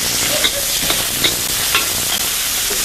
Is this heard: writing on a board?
no